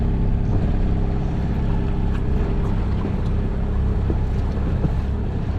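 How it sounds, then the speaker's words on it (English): A small dinghy's outboard motor drones steadily on the water near Royal Island, a loud continuous low rumble with wind buffeting the microphone and no talk. "back in the dinghy after our exploration"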